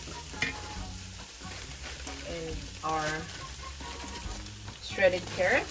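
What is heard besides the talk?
stir-frying chicken with broccoli and vegetables in a pan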